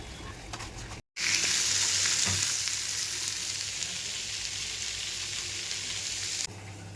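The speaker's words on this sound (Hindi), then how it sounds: "तो मैं यहाँ पर आलू भून के बच्चों को दे दूँगी।" Potatoes roasting in a pan give a loud, steady broadband sizzle that starts abruptly after a brief silence and holds for several seconds, easing slightly before cutting off near the end, with no talk over it.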